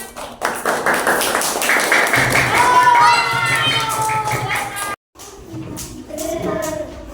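Students in a classroom applaud after a group presentation: a burst of scattered hand claps mixed with children's chatter and excited voices. A short silent gap follows, then quieter talk resumes.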